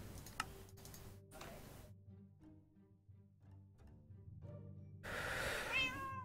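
House cats heard indoors, a few faint meows early on, then quiet ticking and low hum, ending with a louder drawn-out meow.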